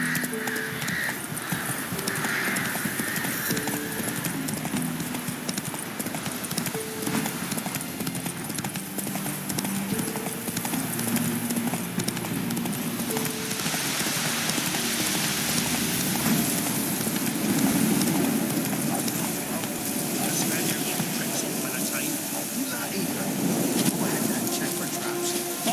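Horse hooves clip-clop at a steady, even trot in The Witcher 3. The gait repeats rhythmically and stays close and clear over a light rush of wind throughout.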